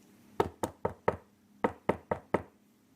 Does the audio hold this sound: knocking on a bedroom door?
yes